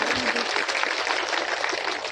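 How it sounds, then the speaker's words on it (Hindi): Audience applause at a Bihar political rally, a dense, steady patter of many hands clapping that fills the short stretch without a break. "जोरदार ताली बजा करके इनका स्वागत करिए"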